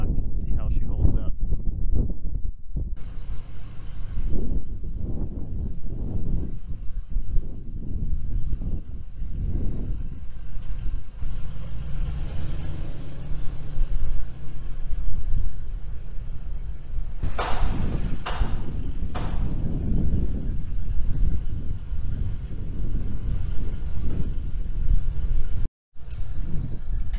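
A van carrying a Black Widow MCC-500 hitch-mounted motorcycle carrier drives around the block, giving a steady low engine and road rumble with wind buffeting throughout and a brief drop near the end.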